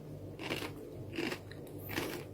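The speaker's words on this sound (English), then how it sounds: "Listen to the crunch." Three quiet, crisp crunches sound in an even rhythm as someone bites into milky chocolate spread filled with crispy kunafa strands. No one speaks.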